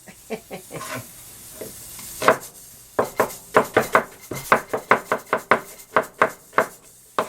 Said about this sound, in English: Like I said, we're just going to saute this.